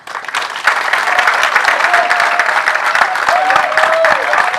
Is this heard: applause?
yes